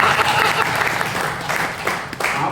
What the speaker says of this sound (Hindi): तो तालियां बजाओ